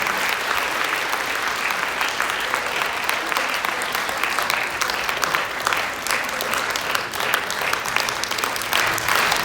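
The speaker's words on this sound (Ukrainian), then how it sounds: "Тоді ще книга в подарунок. Ваші оплески." Audience applause at a book presentation and charity auction, steady dense clapping from a full room, loud and continuous for the whole stretch.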